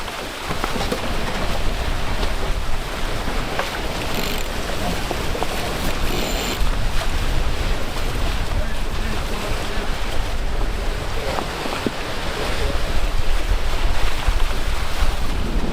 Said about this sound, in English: Rough seas, roaring wind, it's where you'll learn everything about the boat.